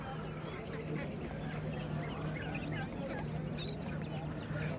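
Native domestic ducks quack repeatedly amid a busy, noisy livestock market in Valliyur, with people talking and a steady background hum throughout.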